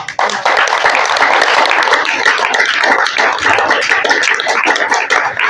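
A sermon audience claps together in sustained, dense applause, loud and close, filling the whole stretch after a brief start.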